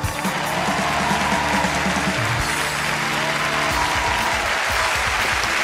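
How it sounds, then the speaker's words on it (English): Studio audience applauds loudly and continuously for a magic trick, with a low musical tone underneath the steady wash of clapping. "Come on, folks, the applause on this trick."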